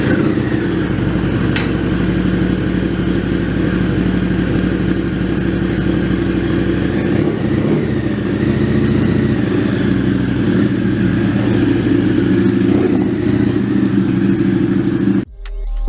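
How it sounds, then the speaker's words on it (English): A Harley-Davidson V-Rod motorcycle engine runs at idle nearby, a steady loud low rumble with a throbbing texture holding for the whole stretch before cutting off abruptly at the end. "Listen to that Vrod engine."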